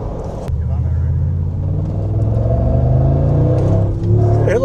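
A Mercedes G Wagon's engine rumbles and revs steadily as it accelerates from inside the cabin, a continuous low throaty drone holding throughout with a brief soft knock at the start.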